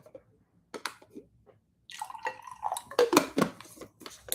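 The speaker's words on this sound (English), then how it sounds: "I'm going to put in a little bit more water here." Water poured into a glass: a few faint drips at first, then a closer trickling pour with gurgling, bubbling spurts toward the end.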